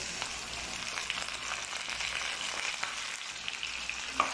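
Chicken liver sizzles in hot oil with garlic and onion, a steady close crackle with light stirring scrapes throughout and no talk.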